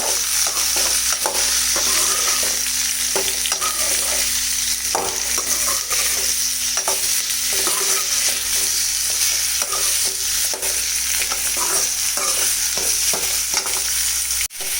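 Continuous sizzling of mustard seeds frying in a pan, with repeated scraping and clinking as a spoon stirs through them, close and steady.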